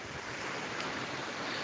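Ocean waves wash steadily onto a beach, a continuous broad roar of surf mixed with wind rushing across the microphone, with no voices.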